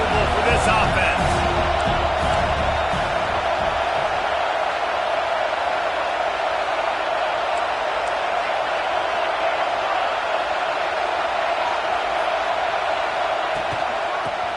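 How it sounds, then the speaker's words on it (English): Steady roar of a packed stadium crowd in the College Football 26 video game, a dense continuous wash of noise with some faint scattered shouts near the start, holding at an even level throughout. "This crowd trying to make life miserable for this offense."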